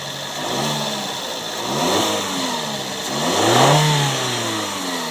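A 2012 Fiat 500 Sport hatchback with a 1.4-liter four-cylinder MultiAir engine revs several times from idle, each swell rising and falling, close and fairly loud with no talk over it.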